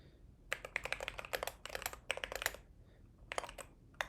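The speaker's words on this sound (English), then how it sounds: "Keyboard." Close, quiet typing on a computer keyboard comes in irregular bursts of rapid key clicks separated by short pauses, with a few isolated taps near the end.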